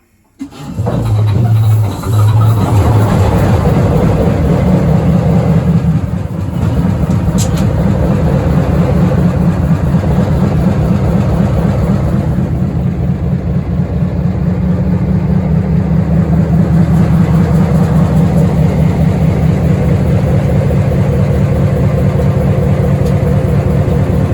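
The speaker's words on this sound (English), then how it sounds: "And go to engine start." A GMD-1 diesel locomotive engine cranks and catches, then settles into a loud, steady low rumble that continues at idle throughout.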